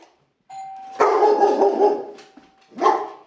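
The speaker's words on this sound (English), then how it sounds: "Ring the doorbell again." A two-tone doorbell chime rings, followed right away by a dog barking loudly nearby, then another bark or chime near the end.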